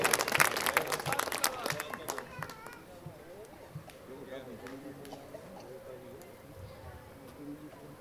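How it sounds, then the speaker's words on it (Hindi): Audience applause for the poet Dr. Vijay Mittal at a poetry recital, a burst of clapping that is strongest at the start and thins out over several seconds, with speech continuing underneath. "एक बार जोरदार तालियां डॉक्टर विजय मित्तल जी को"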